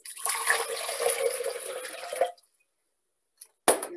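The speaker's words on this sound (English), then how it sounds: "You're going to add 2 cups of water." Two cups of water poured into a container to mix a drink splash and gurgle for about two seconds, then stop, followed by a brief clink and a short splash near the end.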